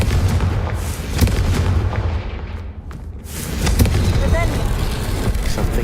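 A Confringo fire spell goes off in Hogwarts Legacy as a loud booming explosion with a rumbling tail. Deep roaring game noise continues throughout, with sharp cracks scattered through it and someone talking over it.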